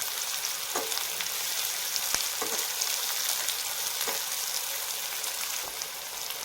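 Chopped onion sizzles steadily in a hot pan while being sautéed for a peanut chutney, a continuous close frying hiss with a few soft stirring scrapes and no voices.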